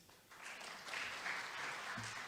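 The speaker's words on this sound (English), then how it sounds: "Another round of applause, please." Audience applause at a public health forum, a steady wash of clapping that holds evenly for a couple of seconds, fairly faint and distant, with no talk over it.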